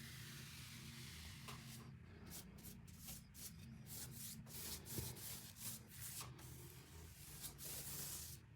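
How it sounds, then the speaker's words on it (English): Sandpaper is rubbed by hand over a painted window sill in repeated back-and-forth strokes, a soft, close, rhythmic scratching at a fairly low level without speech. "That sill needed a little more attention, in my opinion, so I just gave it a quick sand"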